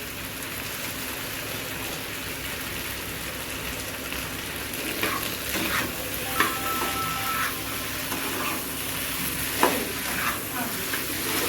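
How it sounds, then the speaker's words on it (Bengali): Potatoes frying and being stirred in a pan, a continuous close sizzle with occasional spoon scrapes and clinks against the metal, no talking. "আলুগুলা দিয়ে ভালো করে কষাই নেব।"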